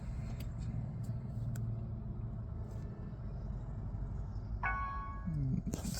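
A Tata Nexon EV with ESP and traction control system faults, in limited performance mode, powers on with a steady low rumble and hum, then a brief tonal chime rings out near the end.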